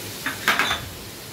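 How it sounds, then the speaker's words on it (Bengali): Chopped tomato being stirred in a pan for a Bengali paneer curry, with a few short scraping clinks of a utensil against the pan in a quiet kitchen. "টমেটোটি দিয়ে আমি এবার আবারও একটু নেড়ে চেড়ে নেব এভাবে"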